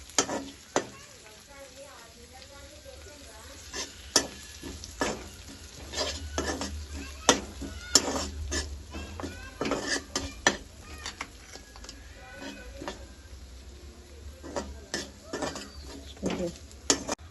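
A spoon stirs chili powder, chili flakes and salt into fried food in a pan for pasta, with soft steady sizzling and frequent close scrapes and clinks against the pan, and a voice speaking faintly at times.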